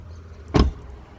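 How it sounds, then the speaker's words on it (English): A Ford Flex car door with layered sound deadener installed closes in one short, dull, solid thump, followed by quiet. "let me go ahead and close this door"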